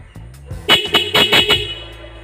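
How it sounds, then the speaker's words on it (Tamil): A motorcycle horn being tested after a repair gives four or five loud, close beeps in quick succession, each short blast separated by a brief gap. "இப்போ பாருங்கள், ஹாரன் அடிக்கிறேன்."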